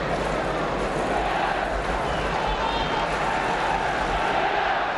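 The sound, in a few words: football crowd applauding Swindon player Samuels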